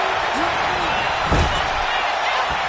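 A wrestler's stomp lands with a single heavy thud on the ring mat at a WWE SummerSlam event, heard under loud, constant arena crowd roar.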